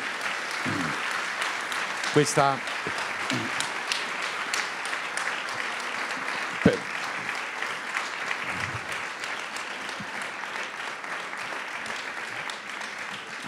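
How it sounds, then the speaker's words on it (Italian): A big round of applause for Mario Tozzi fills a hall, dense clapping sustained throughout, with a voice briefly speaking over it near the start. "Io non posso far altro che chiedere di fare un grande applauso a Mario Tozzi"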